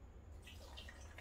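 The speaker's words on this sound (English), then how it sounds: "just put in your water." Water trickles faintly into the reservoir of a Hamilton Beach FlexBrew coffee maker, a soft, steady pour heard close but quiet over a low hum.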